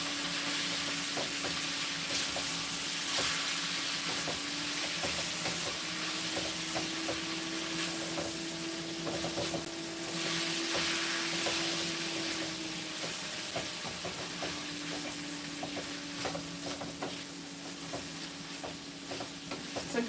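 Salmon, whole grain noodles and vegetables stirred in a hot pan, a continuous soft sizzle with repeated scraping and clinking stirring strokes, close by, over a faint steady hum.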